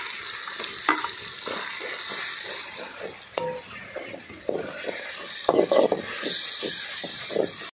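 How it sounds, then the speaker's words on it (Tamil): Ginger garlic paste sizzles and fries in a pan with onions, tomatoes and green chillies, with a steady hiss broken by repeated scraping stir strokes, close and fairly loud, no talking. "இப்போ இஞ்சி பூண்டு பேஸ்ட் அப்படியே போட்டுக்கலாம்."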